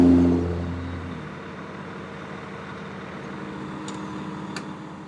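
A small Toyota offroad vehicle's engine runs steadily nearby, a low continuous drone that starts slightly louder and then holds even, with a couple of faint clicks late on and no talking.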